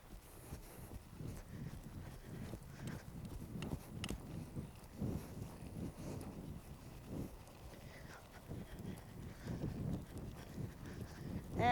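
A horse ridden bridleless with a neck rope moves in a half circle on soft ground, its hooves landing in a steady, muffled rhythmic thud, faint and close, with light wind noise.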